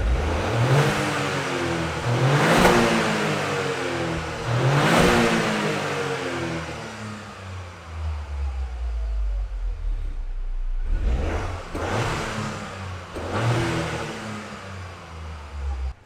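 A Toyota GR Yaris engine with stock exhaust revs repeatedly while stationary, several loud throttle bursts rising and falling over a steady idle rumble, close to the microphone.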